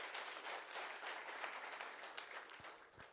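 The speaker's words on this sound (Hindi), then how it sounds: "एक जोरदार ताली आप सभी के लिए।" Audience applause at a business success-story event, a steady wash of many hands clapping throughout, fairly even and moderately loud, without speech.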